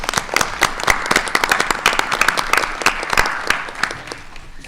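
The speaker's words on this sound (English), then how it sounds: "Can we clap for any of you?" Audience at a school committee monthly meeting clapping for retiring staff, a lively burst of individual hand claps from a modest crowd, close and distinct, rising quickly then tapering off by the end.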